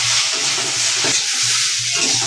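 Green chilli curry being stirred in a pan, a loud continuous sizzle with soft scraping motions repeating through it, close and without talk.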